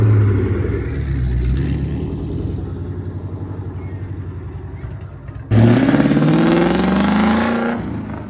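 A 2024 Ford Mustang GT with a full aftermarket exhaust idles with a deep burbling rumble, then abruptly revs up loudly and holds a rising, raspy roar close by.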